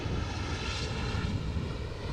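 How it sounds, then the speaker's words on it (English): A helicopter flies near Amsterdam Schiphol Airport, its engine a steady, broad distant roar and whoosh that stays at an even level throughout with no voices. "oh wait, no, that is the helicopter"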